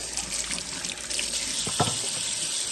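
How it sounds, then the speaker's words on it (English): Tap water runs steadily into a sink as hands are washed beneath it, a continuous close hiss and splash with brief splashy bursts partway through, no talk. "we're gonna come over here to the sink and we're gonna wash my hands"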